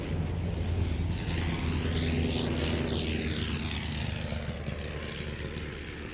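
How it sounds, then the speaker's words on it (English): A First World War Sopwith Pup biplane drones loudly overhead at an air show, its engine note sweeping down as it passes and fades slightly away. "Joining it in the air now, the Sopwith Pup"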